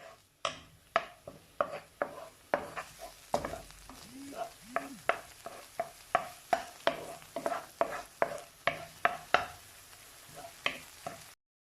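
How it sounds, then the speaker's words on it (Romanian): Green onion whites sauté in an oiled pan with olives, giving a soft sizzle under a regular series of sharp spatula scrapes and taps against the pan, close and with no talking. "vom adăuga ceapa, partea albă, o vom căli puțin"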